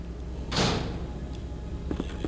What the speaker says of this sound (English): Gonna go in the door.